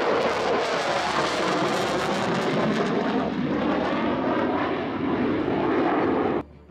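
A Dassault Rafale fighter jet flying, a loud, steady, roaring engine rush that stays constant throughout and then cuts off abruptly at the end.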